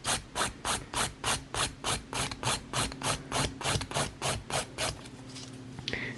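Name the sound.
filing acrylic nail tip with nail file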